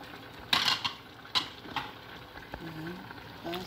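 Carrots are stirred in a frying pan, with a few sharp utensil clacks and scrapes against the pan over a low background, close and fairly quiet, with no one talking.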